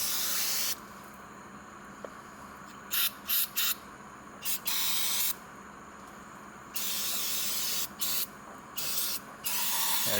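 Carb cleaner is sprayed in short and long bursts of sharp aerosol hissing onto a 1976 Ford F-600 truck, the can fired repeatedly up close with brief pauses between blasts.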